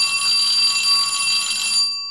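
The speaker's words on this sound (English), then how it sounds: "let's ring the bell and meet our guest for this week's podcast." A single bell rings with a bright metallic shimmer, holding loud and steady for nearly two seconds before fading out, opening a weekly podcast.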